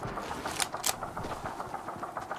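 A tank engine in a video game rumbles steadily at close range in a low, continuous idle, with a couple of brief sharper bursts near the start.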